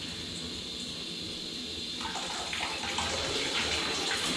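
Water poured from a watering can into a steam wax melter: a quiet background hum gives way midway to a close, splashing gush that grows fuller and louder toward the end, with no speech.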